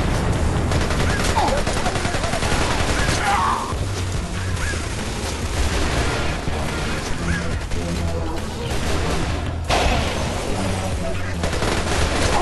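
Heavy gunfire from many shooters in Splinter Cell: Conviction, dense and continuous bursts and crashes filling the whole stretch, loud and chaotic, with voices mixed under the shooting.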